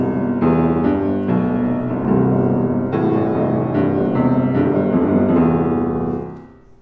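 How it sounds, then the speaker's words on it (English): A Mozart melody played in a high range on a keyboard instrument, a flowing line of clear, close notes with a steady pulse, fading out as the last note rings. "a little bit of Mozart. It would sound like this."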